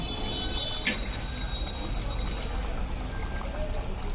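Sour yogurt poured onto cooked, browned beef for a dum biryani, a steady soft pouring wash heard close for a few seconds.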